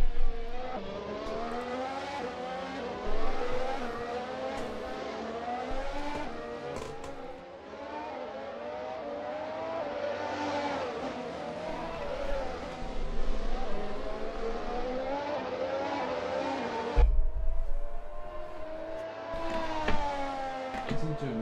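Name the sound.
race car engine on track in racing video game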